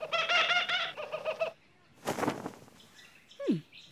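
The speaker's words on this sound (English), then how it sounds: "Peculiar bird." A cartoon bird calls in a run of bright repeated chirping notes, then a short flutter and a falling whistle-like cry, fairly close and clear in a quiet scene.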